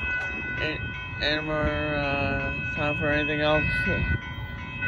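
A Union Pacific hopper car freight train passes on a northbound run at a road crossing in Austin, Texas, a steady rumble with tonal horn-like blasts, under someone talking close by.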